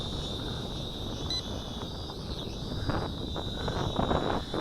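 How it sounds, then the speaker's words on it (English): Steady wind blowing outdoors on a gusty day while a BAYANGTOYS X5C-1 quadcopter flies, a broad rumbling noise that builds toward the end, with a faint high whine running throughout. "It's a windy day today, folks"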